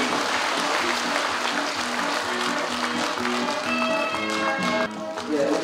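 An audience at a farewell ceremony for the mayor of Mungyeong, South Korea, claps in congratulation, steady applause over background music that drops off briefly near the end.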